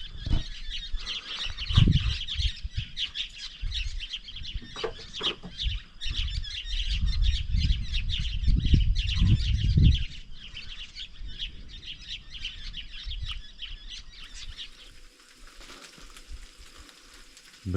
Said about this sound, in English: these bird swarms are unreal